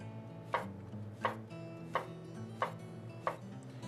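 Knife dicing an exotic mushroom on a cutting board: five sharp, evenly spaced chops over a steady low background hum.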